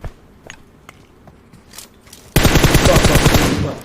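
UMP submachine gun fire in PUBG Mobile on Erangel: a loud, sustained burst of rapid automatic shots up close, preceded by soft footsteps and faint distant shots.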